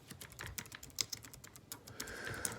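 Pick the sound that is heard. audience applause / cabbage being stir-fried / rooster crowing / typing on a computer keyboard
typing on a computer keyboard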